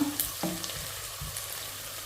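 Onions fry in a pan with a continuous close sizzle while a utensil scrapes and stirs them in a few soft strokes; no voices.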